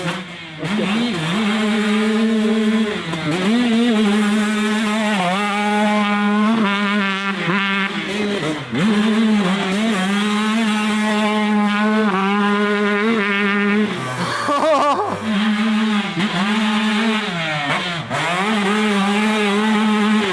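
A motorcycle engine runs loud and close, revving up and settling back in repeated waves, with a buzzy, chainsaw-like tone and no voices over it.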